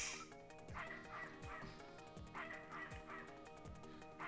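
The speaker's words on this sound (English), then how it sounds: "It's the dog barking." A dog in the Snatcher video game barks in a steady rhythm, repeated yips and bow-wows roughly every second over a tonal musical background, fairly quiet overall.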